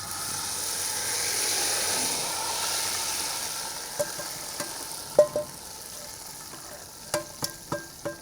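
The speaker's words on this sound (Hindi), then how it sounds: "अब चूल्हा बंद करके और हलीम के ऊपर हम तड़का देंगे।" Steady hot-oil sizzle hisses throughout as fried onion tempering is poured over beef haleem, with a few sharp clinks and taps of a spoon or pan toward the end.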